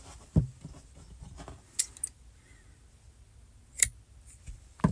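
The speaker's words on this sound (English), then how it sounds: "Snip a few inches away from the end." Scissors snip through crochet yarn, giving a few quiet, crisp clicks close by, spaced out with short silent pauses between them.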